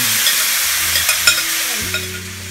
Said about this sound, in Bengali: করে এবার এটাকে ভালো করে একটু হালকা ফ্রাই করে নেব চিকেনটাকে